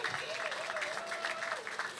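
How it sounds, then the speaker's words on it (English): Applause from the audience at a national youth awards ceremony, moderate and steady across the whole moment, with a faint tonal whistle or voice drifting through the clapping. "Can we give her a round of applause, everybody?"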